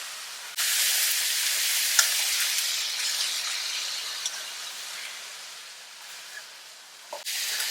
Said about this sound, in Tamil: உப்பு போட்டுடணும் இப்பதான் கிளறணும்